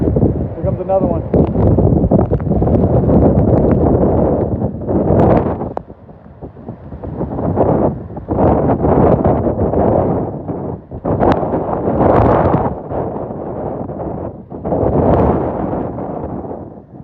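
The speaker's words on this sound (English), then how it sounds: "That was a big gust of wind." Strong Hurricane Milton gusts in flooded downtown Tampa batter the microphone in loud roaring bursts that surge and drop repeatedly, with a person talking intermittently.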